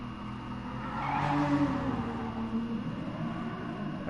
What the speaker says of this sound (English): Just listen to that LaFerrari though